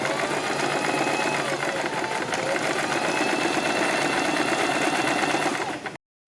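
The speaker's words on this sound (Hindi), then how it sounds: "इसी क्रीज के ऊपर हम थोड़ा थोड़ा कपड़ा दबाते हुए एक सिलाई लगा देंगे" Sewing machine running a seam along a fabric crease on a boat-neck kurti, a loud, steady, close whir that continues unbroken for about six seconds before stopping abruptly.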